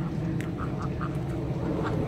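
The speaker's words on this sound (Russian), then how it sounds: "А, там уточки купаются, видите, да?" Ducks on a park lake give a short series of soft, fairly distant quacks over a low, steady background rumble.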